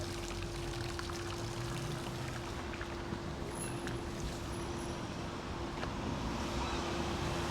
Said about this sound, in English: one of the fountains of Southport